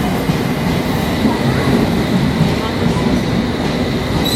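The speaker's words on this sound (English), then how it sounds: "Train on platform number 2 is a district line service for all stations to Upminster." A London Underground District line train standing at a station platform, a steady loud rumble of motor and platform ambience throughout, with some indistinct voices in the background.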